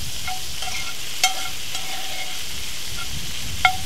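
Bacon frying in a pan, a steady close sizzle with faint crackles and a couple of sharp spits, no voices.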